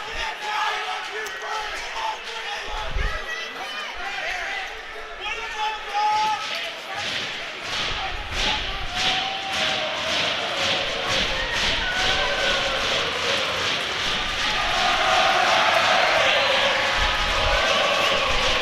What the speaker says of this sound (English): Stick claps on the benches.